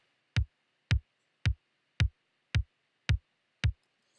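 Kick drum in a drum processing chain, heard as seven evenly spaced punchy thumps about half a second apart, each with a snappy click on top and a short low body, alone against faint background hiss.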